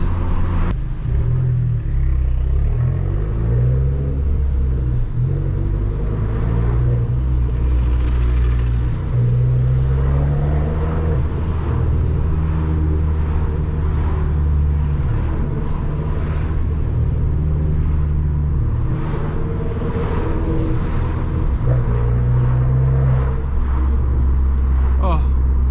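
Loud Abarth 1.4 turbo engine while driving on a stony road, a deep steady drone with rising and falling revs through gear changes, constant throughout with someone talking over it.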